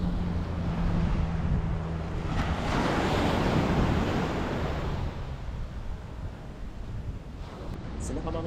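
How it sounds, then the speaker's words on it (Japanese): Ocean waves wash onto a sandy beach at Kamakura in Kanagawa, a steady loud surf roar with some wind buffeting the microphone, fading slightly toward the end. "心地よい波の音に心も癒されます。"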